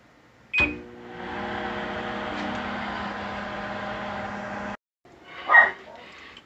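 Microwave oven cooking meatballs: a steady mechanical hum runs for about four seconds after a sharp click, then stops abruptly, followed by a brief beep-like tone. No talking.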